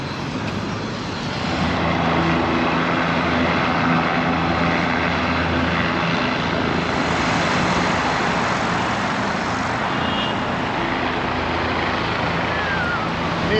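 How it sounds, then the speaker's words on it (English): A distant rotor and engine drone from aircraft over the East River in Manhattan, steady and fairly loud, holding for the whole stretch with only faint traces of voices. "And there's some helicopters over there."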